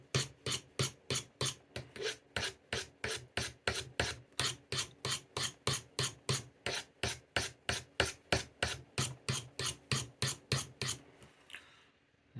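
Knife edge sharpened by hand with rapid, evenly spaced rasping strokes, about thirty quick scrapes in a steady rhythm, close and clear with no talking.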